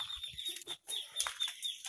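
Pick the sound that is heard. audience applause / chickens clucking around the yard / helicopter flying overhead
chickens clucking around the yard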